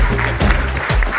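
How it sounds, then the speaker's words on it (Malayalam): Audience applause at a Malayalam comedy stage show, a short loud burst of crowd clapping with some murmur mixed in, cut off quickly. "കൈയടിക്ക്."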